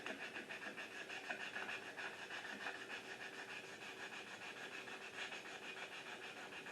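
Sandpaper of 320 grit rubbing across the coated metal chassis of a vintage Hallicrafters SX-9 radio, a steady close scratchy hiss with quick back-and-forth strokes and no talk.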